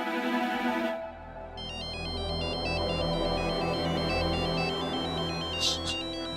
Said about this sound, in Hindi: डॉली जी का फोन।